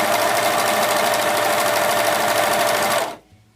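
An overlocker serger sewing machine runs at full speed chaining thread, a loud, even, fast mechanical whir with a steady hum that holds for about three seconds and then stops.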